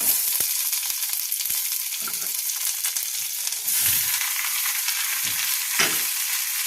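Bitter gourd and cucumber slices sizzle and fry in oil in a pan while being stirred, with a steady hiss broken by several scraping and clanking spatula strokes.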